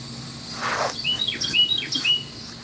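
Small bird chirping outdoors in a series of short, bright, high tweets, fairly close and moderately loud, over a faint low outdoor background with a brief soft rushing sound early on.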